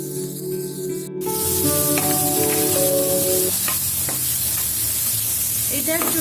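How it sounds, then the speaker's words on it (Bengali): Bitter gourd and shrimp in a pan start with a loud hiss, then sizzle steadily and close, broken by light clinks and scrapes of a utensil stirring them; no one speaks. "এখন আমি নেড়ে ছেড়ে ঢেকে দেব।"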